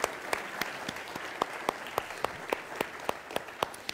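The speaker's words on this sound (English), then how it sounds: "Just applaud the salvation of the Lord." A church congregation applauds at low volume, with crisp individual claps falling in a steady, quick rhythm over a soft wash of clapping.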